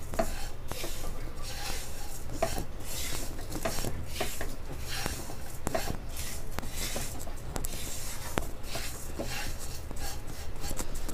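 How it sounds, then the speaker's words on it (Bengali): Fried lachha semai and sugar being tossed together in a pan give a steady, dry scraping and rustling, with repeated sharp clicks of the utensil against the pan, close and moderately loud, with no talk. "এখন আবারও মিশিয়ে নিচ্ছি"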